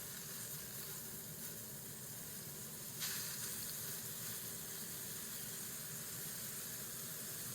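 Beef fillets sizzle in a hot pan just after being flipped, a steady faint hiss with a brief brighter burst near the middle and no talking.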